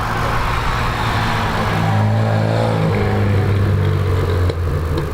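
Gavin Molden's Datsun race car sits at a hillclimb start line, its engine loud and close, revving and holding a steady, throaty drone throughout with no talk.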